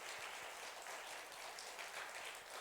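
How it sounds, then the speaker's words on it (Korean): A church congregation claps in encouragement for the teachers, soft, even applause at a distance, dense and unbroken with no talk. "우리 교사들에게도 우리 성도님들 정말 마음을 담아서 격려의 박수 부탁드립니다"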